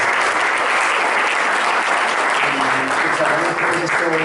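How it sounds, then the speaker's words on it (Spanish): Audience applause for panelists at a blockchain and data analytics panel, a loud continuous wave of clapping with a few voices speaking faintly underneath toward the end. "yo creo que un aplauso pues, a todos los panelistas."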